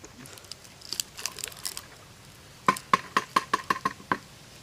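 Urine for homemade fertilizer being mixed in a container, heard as a run of sharp knocking and scraping taps that settle into a steady rhythmic series of about ten close, fairly loud strokes, with no talking.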